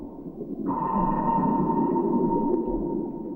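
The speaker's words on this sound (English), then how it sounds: "A pulse of sound was sent out from the ship." A single sustained ship's sonar (ASDIC) ping rings out, a clear pure tone holding steadily over a low rumbling background.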